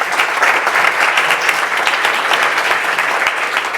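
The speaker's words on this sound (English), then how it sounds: "a round of applause, please" Audience applause at a school awards breakfast honoring National Merit students, dense steady clapping from a crowd filling the room, loud and continuous throughout with no talking over it.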